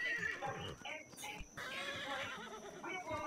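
A horse whinnies in a Wild West video game, a short neigh heard over near, continuous talking with gunfire-style game sounds around it.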